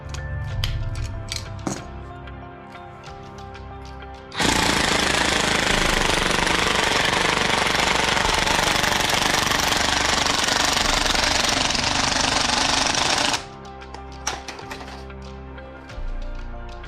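A power drill grinds continuously for about nine seconds while building a DIY cricket and dubia roach cage, loud and harsh, preceded and followed by quieter clattering and handling noises.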